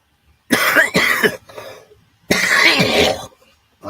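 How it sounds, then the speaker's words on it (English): Two bursts of harsh, close coughing, each a quick cluster of hacks separated by a short silence, with no talking. "apologize for the coughing."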